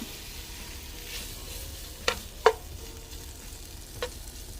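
Bacon sizzles and fries in a pot for Zuppa Toscana soup, a soft steady crackle with a few sharp utensil clicks against the pot, heard alone without talking.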